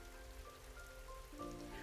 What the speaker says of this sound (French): tout à coup, il commence à pleuvoir